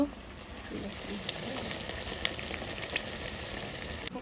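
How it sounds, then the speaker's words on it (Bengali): Mutton braising and frying in a pan over a village-style fire gives a continuous soft sizzle with occasional sharper crackles, with a faint voice murmuring beneath it. "আমার তো সুন্দর করে কষানো হয়ে গেছে মাংস"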